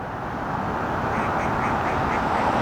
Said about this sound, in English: Got some ducks out enjoying their morning.